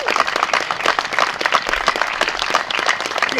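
An outdoor Veterans Day crowd in Southborough gives a round of applause for WWII Pacific veteran Arthur Butler, dense steady clapping throughout.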